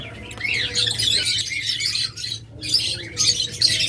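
A pair of green opaline lovebirds gives loud, harsh squawks and chirps in repeated bursts close by, with a steady low hum beneath and no talking.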